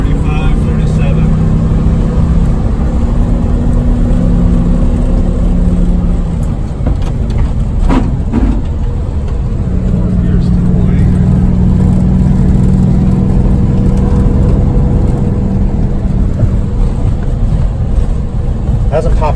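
A GM Silversides PD 3751 bus engine pulls steadily in third gear, a loud, sustained drone with shifting tonal hum. Someone talks over it throughout.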